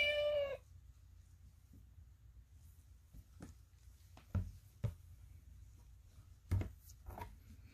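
A single short meow from a children's noisy farm sound book, with a clear, toy-like electronic tone, opens the clip, followed by quiet room noise and a few soft taps and clicks.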